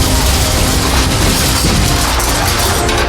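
Grenade explosion in a military shooter video game, heard as a loud, heavy boom inside continuous dense gunfire and battle noise with no break.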